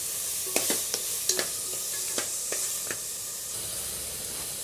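Mutton bones fried with masala in a pan: a continuous sizzle broken by a series of sharp clinks and knocks as the pieces are stirred and moved, then settling back to a plain sizzle with no one talking.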